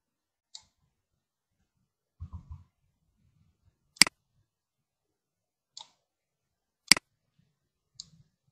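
Sharp, isolated computer mouse clicks come a few seconds apart with near silence between them, plus a brief soft low thump, in a quiet room while a flowchart is drawn.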